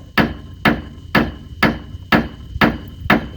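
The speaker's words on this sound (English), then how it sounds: "Try hitting the sides here, that'll break any metal to metal weld that gave itself." Seven sharp metallic hammer blows land at a steady rhythm, about one every half second, striking the sides of a steering knuckle on a 1999 Ford 7.3 Super Duty dually truck, loud and close with no talk.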